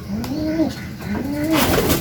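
A large racing pigeon coos close by in a breeding loft, several soft rolling, rising-and-falling calls in a repeating rhythm, loud and alone with no talk over them.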